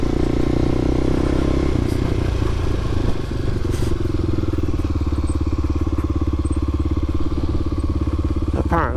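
A Kawasaki KLX250SF motorcycle engine runs steadily up close, a constant droning hum with a slight dip around the middle, no talking.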